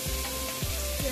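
Two dried red chillies, broken in half, sputter in hot leftover fish-frying oil, a loud, close, continuous sizzle with brief crackling pops.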